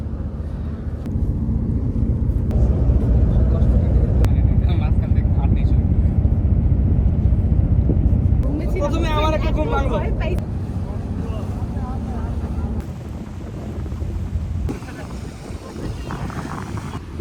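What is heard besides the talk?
houseboat moving across Tanguar Haor wetland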